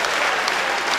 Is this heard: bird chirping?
no